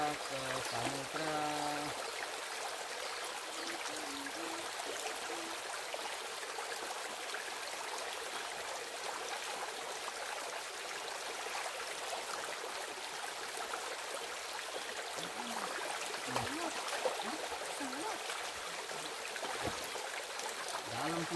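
A river stream flows through a forest valley, giving a faint, steady trickling wash that continues with no break and no voices over it.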